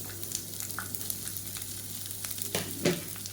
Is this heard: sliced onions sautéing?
yes